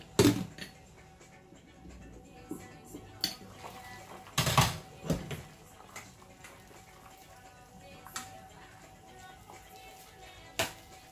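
Metal lid clattering onto a pot of boiling zucchini, a few sharp clanks and taps scattered among quiet kitchen handling sounds.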